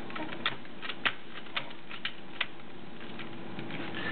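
A duck pecks at a computer keyboard, producing a handful of sharp, scattered taps spaced irregularly over a quiet indoor background.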